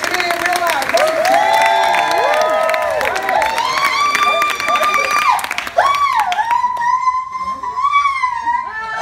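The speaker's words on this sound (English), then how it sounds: "Big round of applause for my buddy, Marty James!" A live audience applauds and cheers for a performer at Universal, with loud shouts and whoops over clapping; the noise is dense and close, and the cheering voices swell and dip throughout.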